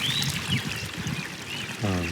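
Rainwater runs off a garden swale after a downpour, a close pouring trickle and gurgle that fades in and out, with a brief tonal bird-like call near the end.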